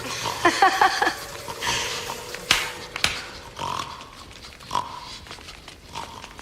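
Pig oinks and grunts performed in a stage play, a burst of squeals and snorts early on followed by scattered grunts and thumps amid theatrical noise, with no speech.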